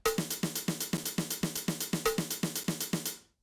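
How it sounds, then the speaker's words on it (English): A fast, even single stroke roll of sixteenth notes alternating between hi-hat and snare, roughly fourteen sharp strokes with a bright metallic ring, stopping cleanly after about three seconds. "we will get a single stroke roll between a hi-hat and a snare over a bar of 16ths"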